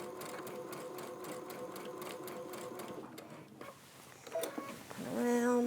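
Rapid, even stitching of a sewing machine running through a quilt sandwich, pausing briefly before the motor starts up again with a rising whir near the end.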